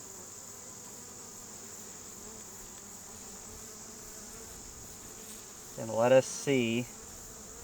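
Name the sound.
honeybees buzzing in an open beehive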